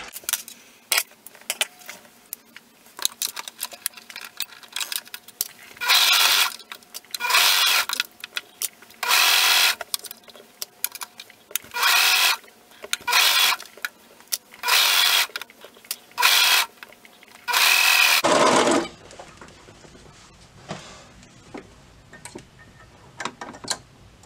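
Home sewing machine stitching the arm seam of an adult swimsuit top, heard as repeated loud bursts of rapid mechanical stitching separated by short pauses, with faint handling noise between runs.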